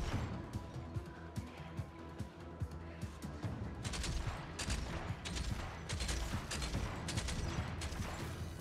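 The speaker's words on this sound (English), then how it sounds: "Thank God for light machine guns" Light machine gun fire in the VR co-op horde shooter After The Fall, with fast bursts of sharp shots that grow denser and louder in the second half over a low droning background.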